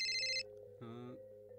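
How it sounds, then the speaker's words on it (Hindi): A telephone rings indoors in two short electronic bursts separated by a pause, clear and close over a low steady hum. "ए मुश्ताक, फोन किसका है?"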